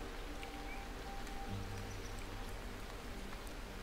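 Steady rain patters in a survival video game, a dense, even hiss of drops on surfaces and leaves that continues without breaks, fairly faint, with no voices.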